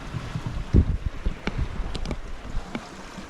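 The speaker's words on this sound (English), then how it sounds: "It's blowing 7 or 8 knots of wind and we're doing 5 knots." Wind buffets past a sailboat under sail in roughly 7 to 8 knots of breeze, with rushing gusts, low microphone rumble and a few knocks and creaks aboard, no voices.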